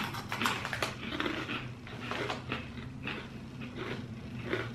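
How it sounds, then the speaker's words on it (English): Someone crunches a Cheetos Wild Habanero chip, a series of close, crisp crackling bites and chews in irregular bursts against quiet room background. "You got a good Cheeto crunch."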